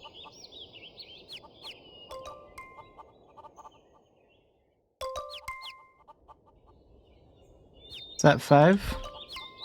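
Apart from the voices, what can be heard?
hen clucking in the video game Mabinogi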